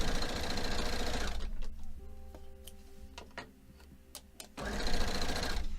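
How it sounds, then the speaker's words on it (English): A sewing machine stitches quilt pieces for a Happy Painter quilt-along: loud, steady whirring runs at the start, stops for a quieter stretch of scattered clicks and ticks, then whirs again near the end. "let's finish sewing this"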